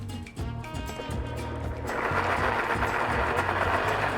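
A blender pureeing a mixture with about five egg yolks for a Spanish tortilla, a close rhythmic mechanical whir that rises into a louder, steadier buzz halfway through.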